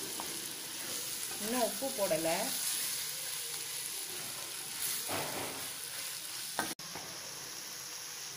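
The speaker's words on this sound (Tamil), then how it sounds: "லேசாக வதக்கி எடுத்துக்கிறேன். நான் வந்து அடுப்பை ஹை ஃப்ளேமில் தான் வச்சுருக்கேன்." Crab rasam ingredients sauté in oil in a pan over a high flame, giving a steady close sizzle and fry throughout, with a brief stir and a short pause near the end while a voice speaks briefly.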